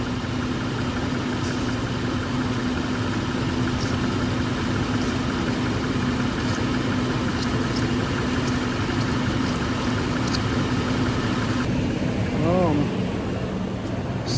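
The engine of a neglected Land Rover LR3 idles steadily just after a coolant service, giving a constant, even hum with a low drone. It runs unbroken throughout at moderate volume.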